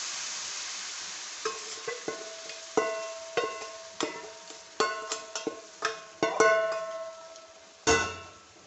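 A spoon stirs and scrapes milk barfi mixture made with bread and dry fruit in a pan on a switched-off stove, giving a steady series of clear clinks and scrapes against a soft background hiss.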